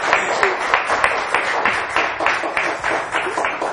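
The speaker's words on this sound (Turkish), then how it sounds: "İlk alkışı gönderen kişi Seyhan Hanım'dı arka taraftan." An audience on a Turkish quiz show claps in a quick, even rhythm. Roughly a dozen sharp beats fall close together, fairly loud, with no talking over them.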